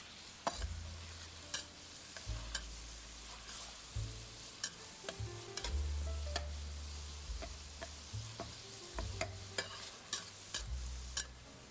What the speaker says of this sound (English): Then add the ground beef. Saute until the beef turns brown.